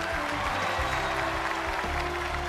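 Audience applause at a televised Chinese TV drama awards gala as two actors are called onstage, a steady broadband wash of clapping heard over music with low sustained tones running beneath.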